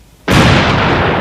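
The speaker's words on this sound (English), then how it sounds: "It adds up to a very large explosion in whatever area one finds both A and B." A chemical reaction in a Thunderbirds episode sets off a sudden, very loud explosion that starts abruptly after a short quiet moment and holds as a dense, rumbling roar.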